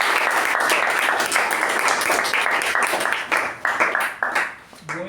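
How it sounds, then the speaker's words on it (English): Audience members at a Toastmasters club meeting give a round of applause. It starts as brisk, dense clapping, then thins into scattered individual claps and dies out, with a voice entering at the end. "So can we have a good round of applause for Toastmaster?"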